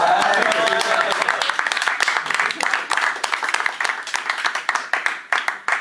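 An audience claps and applauds, loud and dense at first, then thinning into sparser individual hand claps that fade toward the end, with some voices mixed in.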